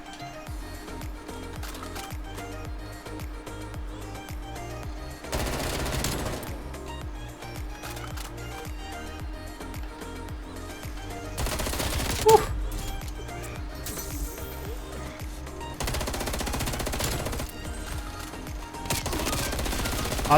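Rapid automatic fire from an FFAR 1 rifle in Call of Duty Black Ops Cold War, several sustained bursts of gunfire loud over a steady game soundtrack, with a brief spike of impact near the middle.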